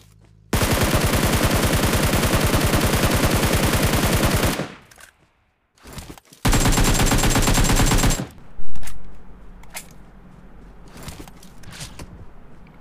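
Automatic weapons fire in the battle royale game PUBG, two long loud sustained bursts of rapid gunshots separated by a short silence, followed by scattered fainter shots and footsteps.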